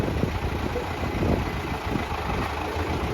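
An MTZ-80 tractor's diesel engine runs steadily at close range, a dense, rumbling drone with no pauses, while its mounted crane works.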